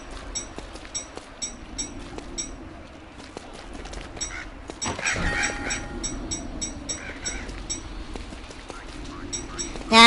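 Tallbirds in the survival video game Don't Starve give repeated honking squawks over steady game ambience, with a louder burst of calls in the middle.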